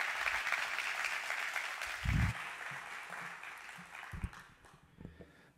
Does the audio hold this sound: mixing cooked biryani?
no